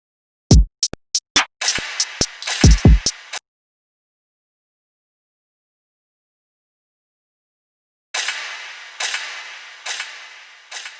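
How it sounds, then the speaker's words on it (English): Sharp gunshot sound-effect sample bursts fire in a rapid cluster, then silence, followed by a few more reverberant shots with decaying tails. "you don't have to look far for the gunshot"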